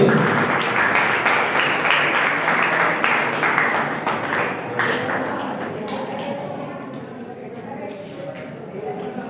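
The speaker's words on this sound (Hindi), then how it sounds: "तो आपकी पुरजोर तालियों में certificate of appreciation madam Nadia Jahanzeb साहिबा के लिए" A school audience applauds at an annual results and prize distribution ceremony as a certificate of appreciation is presented: a loud, dense burst of many hands clapping that gradually thins and fades toward the end.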